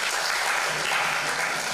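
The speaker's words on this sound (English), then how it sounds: "Let's give a round of applause to the performance" Dense, even applause from an audience at a university gathering rewards a performance, a brief close wash of many hands clapping with no talk over it.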